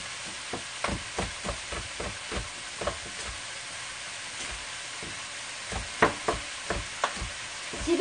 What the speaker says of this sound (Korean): 고기를 볶고 난 다음에 거기에 채소를 넣으면 돼요